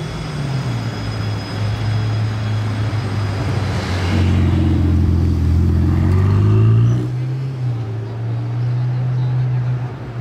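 A Pista supercar pulls up in front of the Monaco casino, its engine humming low, then swelling into a louder rev midway before settling back to a steady idle.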